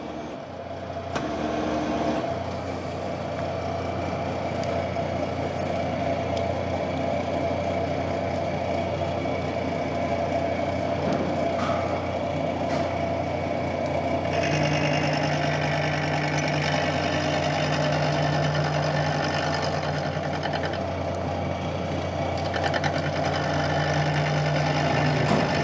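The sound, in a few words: milling machine cutting cast iron with titanium nitride roughing mill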